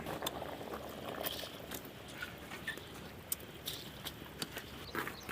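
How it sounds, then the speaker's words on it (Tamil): A pot of bean lentils boils on an outdoor stove, giving a steady bubbling, simmering wash with scattered small pops throughout, fairly close and even in level, with no talk. "நல்லா கொதிச்சு போச்சு, நல்லா வெந்து போச்சு."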